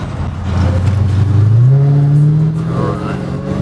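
A 2022 Dodge Hellcat V8 revs hard and accelerates on an open road, its deep engine note climbing steadily in pitch, holding a loud roar, then easing off near the end.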